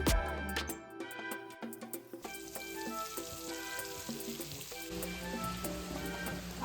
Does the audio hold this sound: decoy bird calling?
no